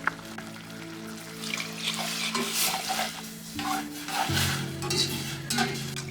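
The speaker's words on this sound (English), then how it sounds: "As you pour, you stir well." A spoon stirs and scrapes around a pot of Romanian ciorba radauteana soup while dressing gurgles in, with faint sizzling and occasional clinks of metal.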